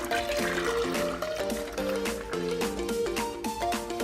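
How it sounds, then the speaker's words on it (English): Melted shea butter with avocado and pumpkin seed oils pours into water while making a natural oatmeal lotion, a steady liquid filling and trickling sound running throughout beneath prominent background music. "I'm now going to pour them into the water."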